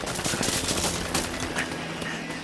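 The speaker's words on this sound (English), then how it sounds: "You're shooting at me" Gunfire aimed at a character in an audio-drama horror tale set on an island: a dense, continuous fusillade of rapid shots lasting throughout, fairly loud and steady with no voices over it.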